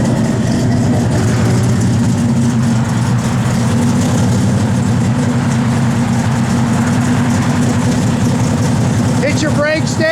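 A 1967 Plymouth Belvedere's engine idles loudly and steadily up close, a deep, even rumble that runs throughout, with a voice faintly audible beneath it.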